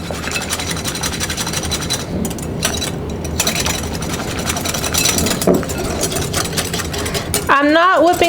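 Electric mixer whipping unsweetened espresso cream for creme brulee, a steady buzzing motor hum close by throughout, with a voice speaking near the end.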